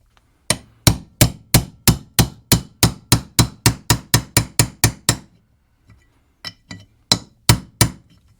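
Main bushing being tapped into place with a tool, a run of about seventeen sharp, evenly spaced metallic knocks close by, a short pause, then a few more taps, with no talking.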